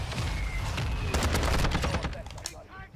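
Rapid bursts of automatic gunfire in Call of Duty Modern Warfare 2, sharp repeated cracks clustered in a quick volley near the middle, fairly close, with the battle din fading toward the end.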